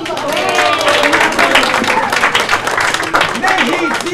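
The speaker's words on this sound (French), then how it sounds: "c'est là qu'on applaudit." A crowd claps after a magic trick at an Eid al-Fitr gathering in Montreal, with steady, loud applause lasting the whole stretch and voices talking and cheering over it.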